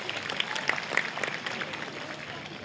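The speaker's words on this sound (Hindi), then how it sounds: "इसके लिए एक बार दोबारा तालियां बजा दें" Faint applause from an audience at a university spring festival: a brief patter of clapping that stays quiet and distant, tapering off toward the end.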